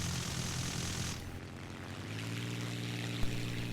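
A wartime I-16 Type 24 fighter's carbureted radial engine in War Thunder drones with a steady buzzing propeller hum, loud and continuous with a brief pitch shift partway, no voices.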